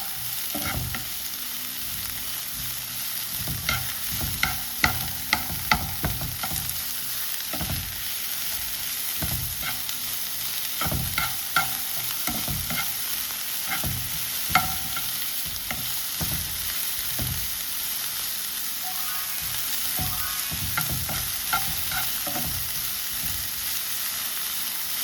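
Onions sautéing in a pan for puffs filling, a continuous sizzle with repeated scraping and knocking of a spoon stirring close up, no voices.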